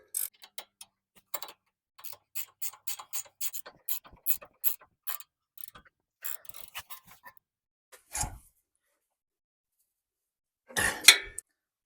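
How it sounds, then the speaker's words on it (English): A hand ratchet tightens a sway bar link nut on a Toyota FJ Cruiser's front suspension. Quick bursts of light, close clicking repeat with short pauses, ending in a rougher metallic rattle, with no talking. "Now we're tightening in the part that goes into the sway bar."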